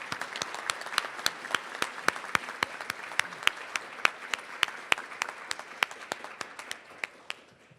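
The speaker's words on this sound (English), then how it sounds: "Let's give a round of applause for our outstanding Principal of the Year." Sparse, evenly spaced hand claps from a small audience at an education awards ceremony, each clap crisp and distinct, continuing steadily for several seconds.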